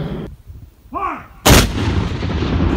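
A Civil War Parrott rifle cannon fires one very loud, close blast that cuts off the quiet, then rolls into a long, rumbling decay outdoors.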